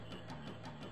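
A frog croaks during frog catching in Final Fantasy IX, a faint rhythmic series of about five short croaks at an even pace.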